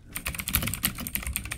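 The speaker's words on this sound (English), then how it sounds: "I tap on individual keys and it will light up correspondingly" Individual keys on a Drevo Calibur Bluetooth mechanical keyboard are tapped in a quick, uneven stream of crisp, close clicks with no talking.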